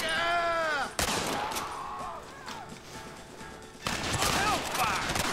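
Western shootout in Red Dead Redemption, with a sharp shot, scattered gunfire and a renewed burst of rapid shots near the end, mixed with shouting voices and game sounds.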